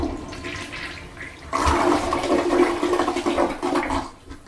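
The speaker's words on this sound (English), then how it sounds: "Okay, I'm gonna flush here." A toilet flushes in a quiet indoor room, beginning with a soft lead-in and then a sudden loud rush of water that swirls steadily for a few seconds before draining off. No one speaks.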